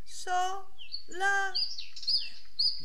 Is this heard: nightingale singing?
yes